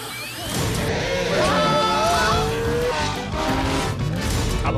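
Car driving sounds from a film trailer: engine roar with tire squeals and skidding, loud and continuous, mixed with music and voices talking over the action.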